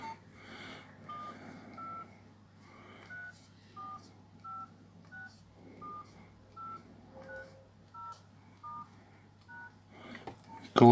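Keypad buttons on a retro Nokia or Samsung mobile phone are pressed one at a time, each giving a short clear tone beep in a slow, even sequence over a low steady hum.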